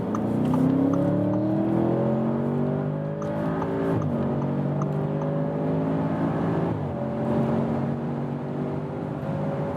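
An Audi S8 V8 luxury sedan accelerates hard to 200 km/h on a night motorway, its engine note climbing steadily through the gears with brief dips at each shift, heard as a smooth, continuous, fairly loud roar from inside the cabin.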